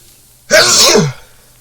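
A single sharp sneeze bursts out close by in the game Medieval Dynasty, brief and loud, then quiet.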